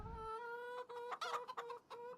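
Farm chickens in Farming Simulator 25 cluck in a quick run of short choppy calls over a steady tonal hum, clear and close with no talking.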